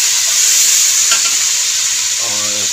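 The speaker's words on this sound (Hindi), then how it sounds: "चावलों को लग रहा है तड़का।" Rice sizzles steadily in hot oil while being tempered with ginger-garlic paste for chana rice, a loud continuous frying hiss with a brief stirring scrape, no talk.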